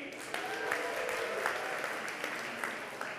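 An audience at the Techsgiving tech event claps for the organising team, a dense and sustained round of applause from a large crowd, with no voices over it.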